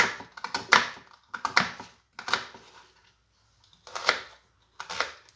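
A knife chops an onion into small pieces on a board, five short bursts of crisp cutting strokes separated by brief pauses, close and moderately loud with no talking.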